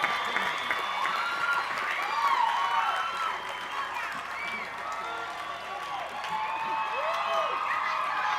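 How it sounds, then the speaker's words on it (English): Broad applause and scattered cheering rise from a crowd at a university commencement ceremony, sustained and fairly distant, with voices mixed into the wash. "Yes, big applause."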